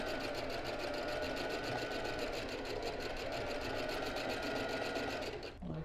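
Sewing machine stitching a freehand zigzag embroidery rose, a fast, loud, steady mechanical chatter of the needle running continuously close up, stopping abruptly at the end.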